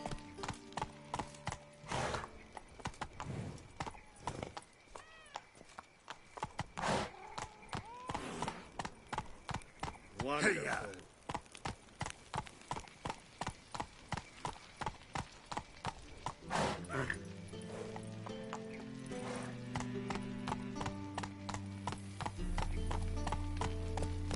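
Hooves of Roach, a horse in The Witcher 3 video game, clip-clop in a quick galloping rhythm throughout, with a brief whinny partway and game music and effects layered underneath.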